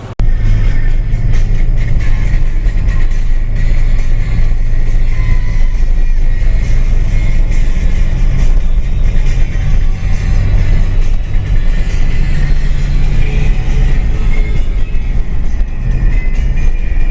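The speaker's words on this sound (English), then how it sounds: "So we'll go ahead and rev it up here so you can hear it." 1990 Jeep Cherokee Laredo XJ engine running loud and steady, a heavy low rumble with some rising and falling in the revs over a sustained stretch, no voices.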